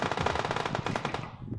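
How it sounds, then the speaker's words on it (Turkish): Rapid machine gun fire in a video game, a fast continuous burst of close, sharp shots that rattles on for over a second before cutting off abruptly. "Oğlum hepsi bana sıkıyor ya."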